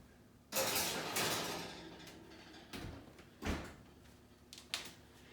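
Sheets of coffee-dyed paper on a wire cookie cooling rack slid into a warming oven: a loud scraping rattle of the rack going in, then a few lighter clunks and knocks of the oven door and rack, close by, with no talking.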